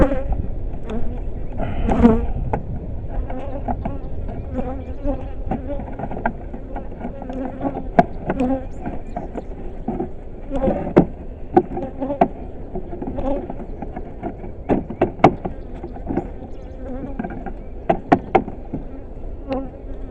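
Honey bees hum steadily around backyard beehives by a pond while supers are added, a dense continuous buzz close to the microphone with individual bees zipping past in brief louder swells.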